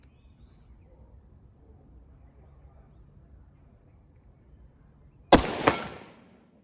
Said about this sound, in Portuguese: Agora vamos fazer um disparo a quase 100 metros para ver a precisão do cano